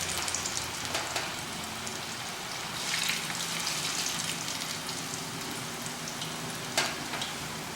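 Pieces of green fish fry in hot oil in a pan, giving a steady soft sizzle and crackle with occasional sharper pops, fairly quiet and close.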